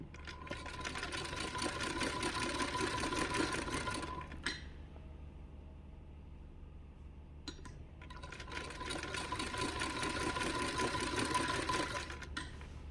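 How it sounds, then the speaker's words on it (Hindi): Domestic sewing machine stitching a fabric strip onto a blouse back neckline, running in a loud steady whir for about four seconds, pausing, then whirring again; quiet and close. "छोटे छोटे स्टेप्स में और धीरे धीरे ही हमें ये पूरा स्टिच करनी है अपनी पट्टी गले के साथ"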